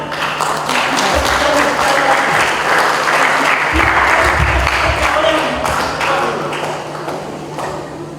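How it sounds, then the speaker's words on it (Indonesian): Loud, dense applause fills a large Christmas gathering of the Tabi community in Manokwari, a sustained wash of clapping with a few thumps underneath that tapers off slightly near the end. "Tepuk tangan."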